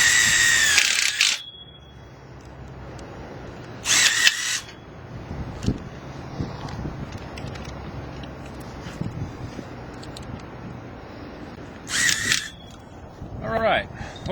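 A power drill drives screws into a black vinyl chain link gate in three short loud whirring bursts, separated by quieter handling sounds and someone talking.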